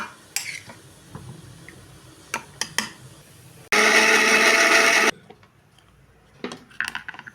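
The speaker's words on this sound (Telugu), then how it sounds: "దీంట్లో మనం ఈ చల్లార్చిన బీరకాయ బీరకాయలు పచ్చిమిరపకాయలన్నీ వేసేసుకొని మిక్సీ వేసేసుకుందాం" A mixer grinder blending ridge gourd and green chilli chutney whirs loudly in one short burst of about a second and a half, with kitchen clinks and taps before and after.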